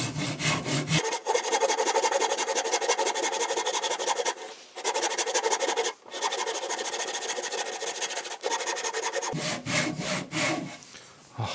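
A Japanese hand saw cuts wood for a tenon joint in rapid, even rasping strokes, loud and close, with brief pauses between bursts of sawing.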